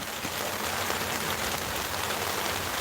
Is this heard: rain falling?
yes